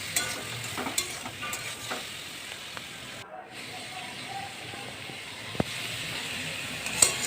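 Chopped tomatoes and potatoes stirred in a frying pan for a paneer dish, a soft steady sizzle with light spatula scrapes and a couple of sharp clicks, nearby and without speech.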